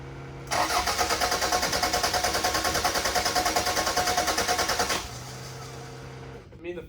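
A car engine cranks over with a fast, steady chugging for about four and a half seconds, loud and close, without catching, then drops to a low hum.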